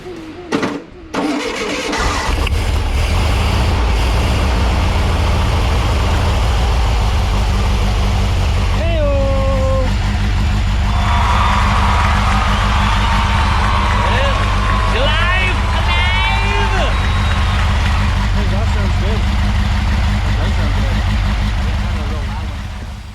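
A VW 1641cc engine on a test stand cranks with a starter, catches and runs loud and rough without settling into an idle. People talk and shout over the steady mechanical roar.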